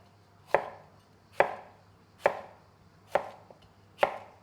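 A knife chops ingredients into batons on a cutting board for a cheesesteak pizza, giving five crisp, evenly spaced thunks about a second apart, close and clear, with no talking.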